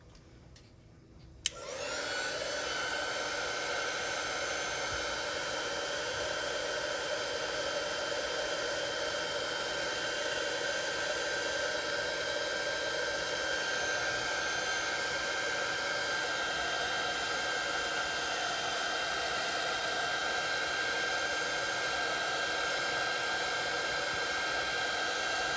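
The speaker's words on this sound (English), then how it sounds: "let's grab the heat gun," A heat gun drying watercolor paint on a snowy winter scene switches on with a click and then blows a steady, loud whooshing hum. The hum carries a constant whine and runs unchanged for over twenty seconds.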